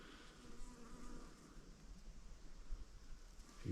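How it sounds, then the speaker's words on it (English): Honeybees buzz among flowering shrubs beside a forest hiking track in the Perth Hills, a faint continuous drone that rises and falls with the insects' movement, heard alone against quiet outdoor air. "And little honeybees on there as well."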